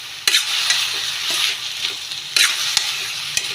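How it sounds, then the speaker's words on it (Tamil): Plantain curry sizzles and fries in a pan while a spoon stirs it, with steady hissing broken by a few scraping clicks against the pan. "இப்போ எல்லாம் சேர்த்து ஒரு கிண்டுங்க"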